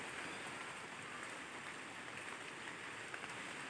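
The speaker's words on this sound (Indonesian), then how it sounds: "Ini malah hujan sudah datang, menambah hijau royo-royo pemandangannya." Steady rain falling over farmland, a dense even hiss of drops filling the whole stretch with no pauses and no voices.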